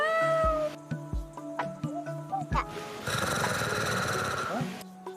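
A cat meows several times up close in short, rising calls, with a voice in the clip that may be imitating the meows, followed by a burst of louder noise.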